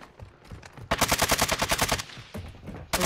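Automatic gunfire in the video game Call of Duty Warzone 2.0, a rapid burst of about a dozen shots for roughly a second, then quieter scattered shots, with faint background game noise.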